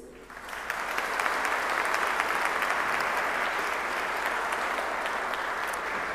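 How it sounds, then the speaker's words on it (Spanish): Sustained applause from a festival audience at the Festival Internacional de la Imagen 2016 welcoming special guests, a dense, even roar of many hands that swells within the first second and holds steady at a close, full level. "Reiteremos un aplauso a nuestros invitados e invitadas especiales"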